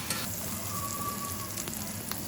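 Mushrooms frying in a pan for smothered chicken and rice, a steady close sizzle and crackle with a few sharper pops, no voices.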